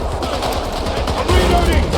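Dense, loud automatic gunfire from a Battlefield 6 battle rattles continuously in rapid bursts, with a heavy low rumble swelling toward the end.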